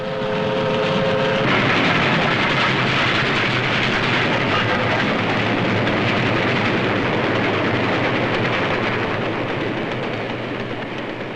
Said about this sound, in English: The men going to work can see the freight trains bringing in the raw materials